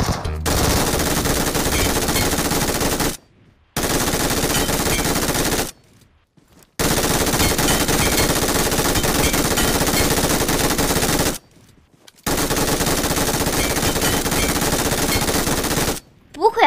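Sustained machine gun fire in the shooting game Metro Escape, long loud continuous bursts separated by a few short pauses, close and dense.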